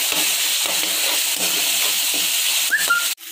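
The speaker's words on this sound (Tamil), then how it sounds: "எல்லாத்தையும் நல்லா வதக்கிக்கலாம்." Onions and tomatoes with a little salt sautéing in a pan for avarakkai poriyal, giving a steady close sizzle and hiss with faint stirring scrapes, a brief whistle-like tone near the end, and no talking.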